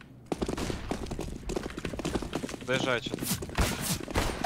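Bursts of gunfire crackle in a first-person shooter game, quick pistol and rifle shots mixed with footsteps beneath constant excited talk between players.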